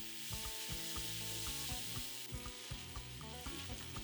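Onions and carrots sizzle in very hot oil with toasting spices for a lamb shank curry, a loud, steady frying hiss broken by frequent rhythmic clanks and scrapes of stirring, with no talking.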